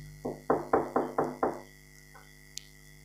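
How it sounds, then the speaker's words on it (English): Six quick, firm knocks on a door in an even rhythm, followed by a faint thud and a brief click in a quiet room. "The man was knocking on the door."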